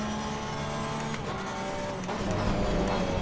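Porsche 911 GT3 R race car in the sim racing game Assetto Corsa Competizione at the Hungaroring, a steady droning engine held at high revs with gear-shift blips, loud and continuous with no talk.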